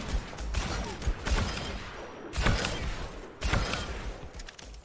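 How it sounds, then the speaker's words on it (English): Ashe's rifle firing in the video game Overwatch, several sharp gunshot bursts at irregular intervals over a busy game soundscape, fairly close and punchy. "This weapon feels so blinking nice to shoot"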